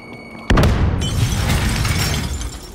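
A grenade goes off in Call of Duty Warzone: a sudden loud blast with a shattering crack, followed by a long rumbling roar that slowly fades over about two seconds.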